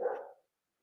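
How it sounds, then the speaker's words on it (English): A neighbor's dog gives a single short bark, moderately loud and somewhat distant, followed by silence. "Now my neighbor's dog is barking"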